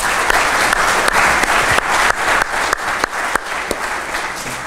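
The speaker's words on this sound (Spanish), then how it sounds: "lo recibimos con un fuerte aplauso al ingeniero Roca" Loud, sustained applause from a mining seminar audience welcoming an engineer to present, dense clapping with sharp individual claps standing out throughout.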